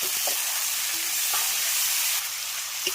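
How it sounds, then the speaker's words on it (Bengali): Spice masala with turmeric sizzles steadily in a pan while being stirred for chicken kosha, a loud continuous frying hiss broken by a few soft scraping strokes, with no talking. "এবার মশলাটাকে খুব ভালো করে কষাবো"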